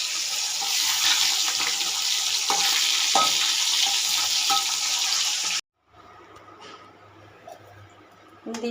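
Rohu fish pieces sizzle loudly in hot oil in a pan, a close, steady hiss with a few clinks, until the sound cuts out abruptly and only quieter kitchen background remains.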